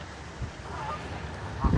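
Ducks quack and honk beside a lake, a brief burst early and a louder call near the end over steady wind and outdoor background noise.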